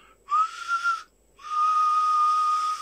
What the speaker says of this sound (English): I'll give you a little whistle.